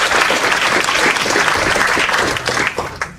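A crowd at a candidates' night breaks into dense, sustained applause for Jim Campbell, a thick wash of many hands clapping that tapers off slightly at the end.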